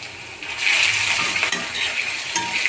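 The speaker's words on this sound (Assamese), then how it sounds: "এইখিনি মই আদা, নহৰু, কেঁচা জলকীয়া 2টা যে আছিল, ইয়াতে খুন্দি লৈ এইখিনি অলপ দেৰি এনেকৈ ভাজি ল'ম" Onion fries in a pan with crushed ginger, garlic and two green chillies. A bright, continuous sizzle swells after a moment, broken by light clinks and stirring sounds.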